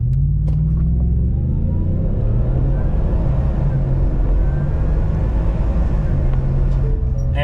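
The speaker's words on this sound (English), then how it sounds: "I'll do a 4 high auto launch with a brake rev, and we'll see what it can do." A supercharged 5.0 Ford F-150 pickup in four-high launches hard from a brake rev, its engine a loud, continuous low rumble that climbs through the run without pause.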